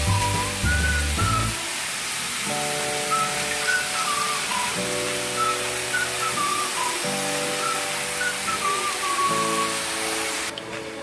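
Spice-coated poultry chicken pieces lightly fry in a pan for a red chicken kosha, giving a constant broadband hiss that runs unbroken for several seconds beneath soft background music.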